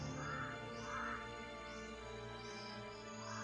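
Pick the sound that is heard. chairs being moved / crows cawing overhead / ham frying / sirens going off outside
crows cawing overhead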